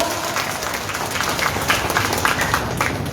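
Applause from a congregation at a church Eucharistic celebration with installation rites, a continuous wash of clapping from many people, fairly loud and steady throughout.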